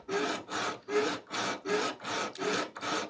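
A steel hand file scrapes the ricasso of a skinning-knife blade in eight steady, even back-and-forth strokes, each a loud, close rasp with short pauses between.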